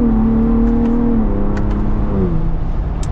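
2023 Ford Bronco Raptor accelerating, engine note rising and dropping as the transmission shifts quickly, a close steady whir of engine and drivetrain with no talk.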